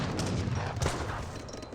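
Musket and rifle volleys from an Age of Empires 3 battle between Swedish and Ottoman armies, Grenadiers trading fire with Janissaries, a dense crackle of overlapping shots that runs without pause for the whole short stretch.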